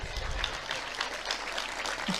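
An audience at a Tamil speech by Parveen Sultana claps in a steady, even burst of applause, moderately distant and unaccompanied by speech.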